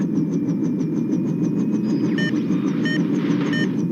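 A truck engine runs steadily in a radio drama, a low idling rumble close by, with a few faint high metallic clinks partway through and no voices.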